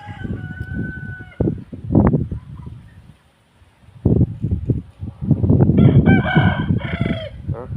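A rooster crows loudly nearby while hens cluck and squawk around it, with bursts of farmyard noise and a brief quiet gap midway.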